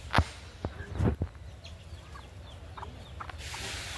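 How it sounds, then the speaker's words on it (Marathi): A few short, sharp clucks from a hen close by in a village yard with a mango tree, spaced irregularly, followed by faint softer calls against a quiet outdoor background. "ते बघा कोंबडी"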